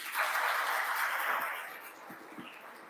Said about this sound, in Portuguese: dá uma grande salva de palmas para Jesus